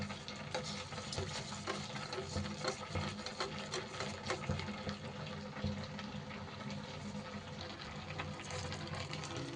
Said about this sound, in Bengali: এইবার এই চালটা একটু জল দিয়ে ভালো করে ধুয়ে নেব।